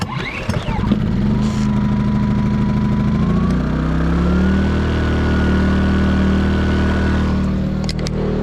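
A small gasoline engine, choked and pull-started, catches on the first pull and settles into a steady, loud, close idle with a low rhythmic throb that continues throughout.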